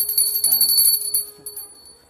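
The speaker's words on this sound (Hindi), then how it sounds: "ये मेरा बेटा भी घंटी बजा रहा है" A small prayer bell rings in quick repeated strikes, bright and sustained, with faint voices underneath before the ringing fades out.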